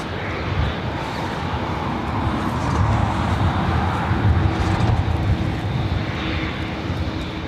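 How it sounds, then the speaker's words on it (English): A Japan Airlines Boeing 787-8 Dreamliner takes off at LAX bound for Tokyo Narita, its jet engines a broad, sustained roar that swells slightly midway and holds steady, fairly close. "Takeoff is Japan Airlines heading back to Tokyo Narita. 787-8 Dreamliner,"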